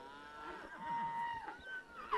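Cattle on a hillside being herded up a trail, one drawn-out moo and some softer lowing, moderately near, with faint background noise.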